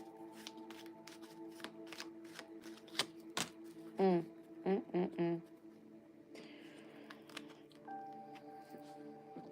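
Tarot cards are shuffled close up in quick riffling bursts and soft slaps, with a person speaking quietly at times between the shuffles.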